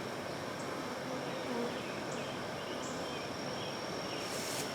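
Honey bees swarm around an active hive outdoors, making a dense, steady buzzing hum with individual bees droning close past now and then.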